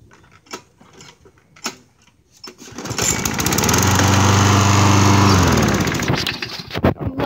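An MTD Yard Machines push mower engine catches after a few faint pulls and clicks, then runs at a loud, steady drone for a few seconds before the throttle drops and it winds down.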